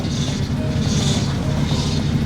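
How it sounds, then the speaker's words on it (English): Steady low engine drone from an Audi A4 with a failing power steering pump, a constant mechanical hum and faint whine, running continuously without pause and no voices. "because of the power steering pump, which is supposed to assist the steering and is not supposed to sound like that"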